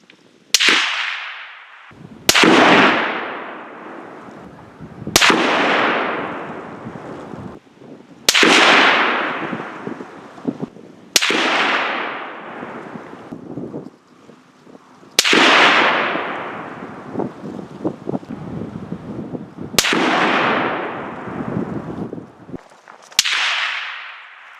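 Rifle shots fired outdoors while testing barrel compound: eight loud, sharp cracks spaced a few seconds apart, each trailing off in a long echoing decay.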